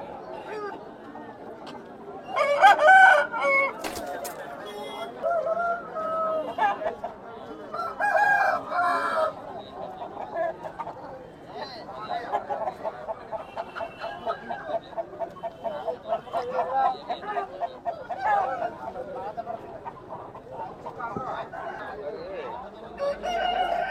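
A rooster crows amid the busy chatter of a Saturday country-chicken market, with clucking fowl and several people talking and haggling throughout; one crow stands out clearly near the start over the crowd noise.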